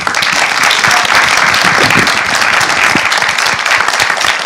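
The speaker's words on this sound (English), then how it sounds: "A big applause." Loud, sustained applause from a film festival audience, a dense wash of many hands clapping steadily from start to finish with no pause.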